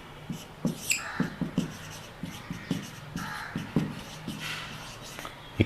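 Chalk or marker tapping and scraping across a classroom board as an equation is written during a physics-chemistry lecture, with a steady run of short knocks and strokes close by, no speech.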